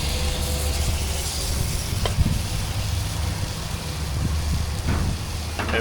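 Steady low rumble of highway traffic beside a campground, a continuous broadband drone with a few brief passing swells, heard near and fairly loud with no talking.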